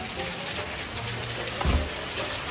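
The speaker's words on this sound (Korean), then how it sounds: "이와 함께 우박이 쏟아지고 있습니다." Small hail pours down outside, a dense steady patter and hiss of pellets hitting surfaces, with a brief low thump partway through.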